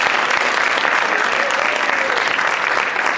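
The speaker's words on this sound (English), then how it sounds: "Let's give her a round of applause," An audience at a board of education meeting applauds in a sustained, dense burst of clapping that stays at an even level from start to finish.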